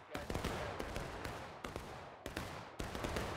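Ragged musket volley fire from a Civil War battle in War of Rights: several sharp broadband shots crack out at irregular intervals, some near and loud, others overlapping into a loose staggered volley, with voices talking among the shots.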